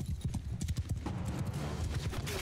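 Horses galloping at speed in the medieval combat game Mount & Blade II: Bannerlord, a rapid, continuous clip-clop of hooves close by, with a brief whinny and battle noise mixed in.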